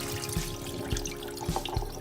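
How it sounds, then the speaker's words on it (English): Soaking water poured off soaked cashews, a splashy trickling stream with a few heavier gurgling splashes as it drains away, close and fairly quiet. "So pouring out all the water here"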